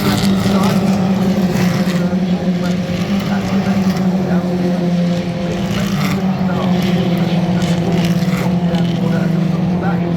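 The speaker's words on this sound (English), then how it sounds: "side by side with Osborne running way out wide through these 2-3 places on the run down into the left-hander at Graham Hill Bend" Race cars lapping a circuit near Graham Hill Bend, a steady loud engine drone throughout with a pitch that shifts little, under continuous commentary.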